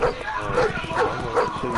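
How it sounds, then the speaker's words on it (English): Dogs barking in the Black Ops 4 video game, a run of repeated, evenly spaced barks at close range with players talking over them. "Dogs from GTA, yo."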